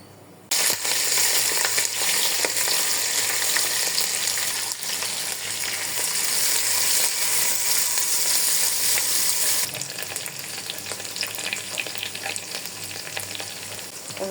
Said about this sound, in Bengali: আমি মুরগির মাংসটা কিছুক্ষণ ভেজে নেব।